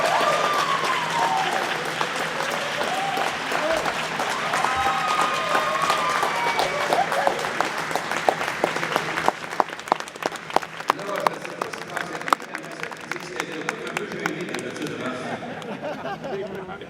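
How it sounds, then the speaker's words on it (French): Audience applause fills a hall at the 2025 Boxing Canada Hall of Fame induction ceremony: a dense, steady wash of many hands clapping that carries on unbroken for the whole stretch, close and lively. "veuillez vous joindre à moi pour applaudir"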